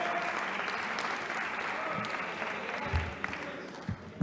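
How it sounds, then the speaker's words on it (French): Sustained applause fills a parliamentary chamber, a dense, even wash of many hands clapping at moderate distance, with a few louder thumps and murmurs near the end. "Ils m'applaudissent."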